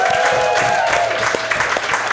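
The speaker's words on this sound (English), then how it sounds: "another round of applause for the guys" An audience applauds the guests at a live music and talk show, a steady wash of clapping running through the whole stretch with a faint held tone underneath.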